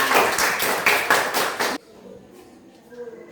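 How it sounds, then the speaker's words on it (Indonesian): A classroom of students claps for a classmate named Nagita in a short, loud burst of applause that stops abruptly, followed by quiet room sound with faint voices. "Oke, tepuk tangan untuk Nagita"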